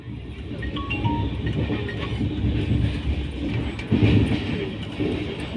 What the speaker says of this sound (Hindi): अब हमारी ट्रेन ने उसकी मैक्सिमम स्पीड को अटेन कर लिया है, which is 125 kilometre per hour.